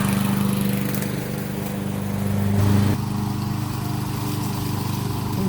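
A push lawn mower engine runs steadily nearby, a continuous droning hum that swells slightly about midway before settling back to an even drone.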